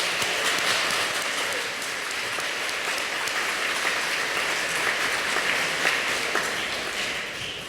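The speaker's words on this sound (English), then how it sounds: "Let's give one more big round of applause to all our student recipients." Sustained applause from an evening awards ceremony audience honoring student recipients, a dense, steady wash of many hands clapping at even loudness throughout, with no talk over it.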